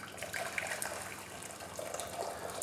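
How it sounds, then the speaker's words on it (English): Hot water from a freshly boiled kettle pours into a pan on a kitchen stove, giving a steady, splashing gush that runs continuously at close range. "pour a little bit of water in there."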